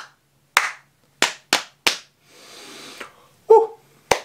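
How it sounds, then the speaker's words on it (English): Hands clap and slap knees or a tabletop in a rhythm game, sharp dry hits landing close and loud in an uneven beat, with a brief rustle in the middle and one soft vocal sound among the strikes. "Clap, clap, slap, slap, slap."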